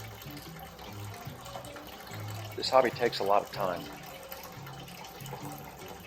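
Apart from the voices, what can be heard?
wort dripping from squeezed grain bag, all-grain homebrew mash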